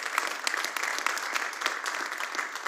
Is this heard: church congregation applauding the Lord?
yes